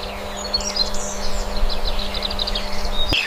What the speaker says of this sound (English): A group of green parrots arrives, searching for seasonal fruits.